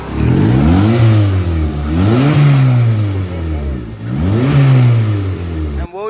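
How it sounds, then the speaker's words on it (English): A Honda K24A4 engine in a car paired with a Toyota W56 transmission revs up several times in quick succession, loud and close, each rise falling back toward idle, with voices mixed in. "Rev it."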